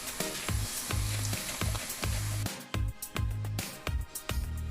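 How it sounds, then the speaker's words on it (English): Plantain chips frying in hot oil, a steady close sizzle with repeated bursts of bubbling as pieces are moved or added, no talking. "I'm gonna finish frying my plantain"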